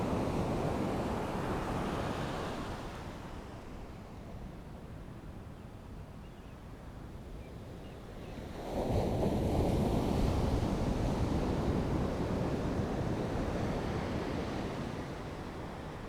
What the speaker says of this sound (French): À l'écoute de l'océan